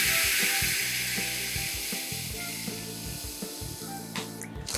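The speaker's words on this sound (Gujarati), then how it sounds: "ભજીયા સરસ રીતે ગોલ્ડન થાય ત્યાં સુધી ફ્રાય કરી લીધા છે" Dabda bhajiya, gram-flour fritters, frying in hot oil, giving a dense, constant close-up sizzle and crackle throughout with faint clinks of a utensil, no voices.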